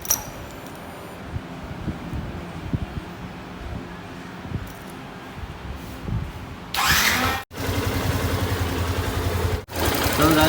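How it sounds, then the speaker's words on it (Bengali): A Suzuki V2 motorcycle engine with a displaced timing part runs with an off, uneven sound: a steady mid-pitched hum that jumps to a louder, harsher roar partway through, broken by two brief cut-outs. "এখানে ইঞ্জিনের আওয়াজটা অন্যরকম হয়ে গেছে"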